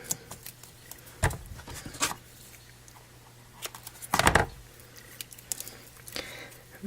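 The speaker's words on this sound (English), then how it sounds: "I think it would be better if I took my snips and cut that" Metal snips cutting through paper letters for a handmade eclipse-themed card, a few short crisp snipping bursts spaced apart, close and fairly quiet with light handling rustle between cuts.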